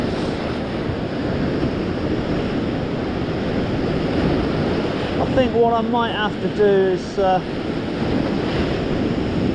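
Ocean surf washes steadily onto a beach on a fishing morning, a constant close roar with wind buffeting the microphone, while someone speaks briefly over it.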